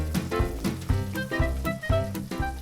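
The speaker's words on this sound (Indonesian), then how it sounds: "Langsung aja kita tumis bawang bombay cincang hingga harum" Chopped onion sautéing in a pan, a close sizzle broken by regular crackling pulses, as if the pan is being stirred or shaken in a steady rhythm.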